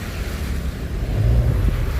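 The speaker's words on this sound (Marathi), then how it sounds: "रस्त्यावर नदी वाहू लागलेली आहे" Waist-deep floodwater pours across the Niphad–Shivre Phata road, a low, churning rush with wind buffeting the microphone and a swell in the water's roar midway.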